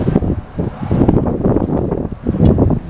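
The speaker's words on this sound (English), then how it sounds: "Little windy today." Wind gusting around a small backyard windmill, a loud continuous rushing roar with buffeting mic noise throughout, no speech.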